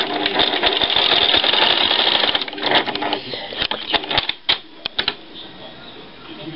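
A domestic sewing machine stitches with badly misadjusted thread tension, a fast, close mechanical whirring and clatter that runs steadily, then breaks into scattered clicks and taps as it slows and stops.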